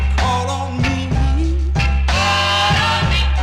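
A 1960s soul B-side plays from a vinyl record: a loud groove with bass, horns and rhythmic hits, vocals riding over the band.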